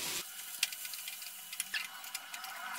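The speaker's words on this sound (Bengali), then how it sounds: "পেঁয়াজটা ভেজে নেব।" Chopped onion fries in a pan with a faint, steady sizzle and a few soft ticks and pops. No voices are heard.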